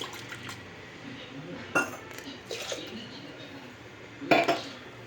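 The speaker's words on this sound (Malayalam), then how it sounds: "ഇത് മിക്സി ഒന്ന് നമുക്ക് കഴുകിയെടുക്കാം" Water sloshes and splashes as a mixer grinder jar is rinsed, with a few clinks of the jar and lid knocking, loudest near the end.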